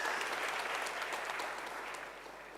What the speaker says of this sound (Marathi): आता टाळ्या.